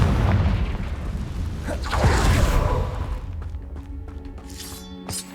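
A Confringo fire spell from the Hogwarts Legacy video game bursts in a shattering, booming blast that crackles and whooshes, then fades into clinking debris and a small final crack.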